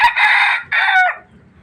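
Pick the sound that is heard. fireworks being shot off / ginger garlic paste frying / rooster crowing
rooster crowing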